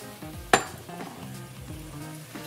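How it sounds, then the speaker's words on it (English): Cut meat tipped into a pan of golden fried onions for Persian ghormeh sabzi stew, starting with a sudden loud sizzle burst that settles into steady frying hiss with faint stirring and pan clinks, no talk. "Now I'm going to add all the meat that I cut."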